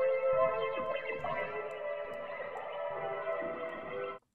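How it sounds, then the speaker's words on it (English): A sustained, effect-laden synth tone in FL Studio with washy reverb and echo tails swells for about four seconds, then cuts off abruptly. "you want to add more reverb."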